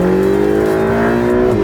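Ferrari 488 GTB engine accelerating hard, a loud, steady, rising engine tone heard close and alone throughout.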